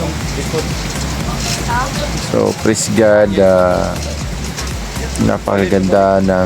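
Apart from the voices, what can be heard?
heavy rain and wind on an island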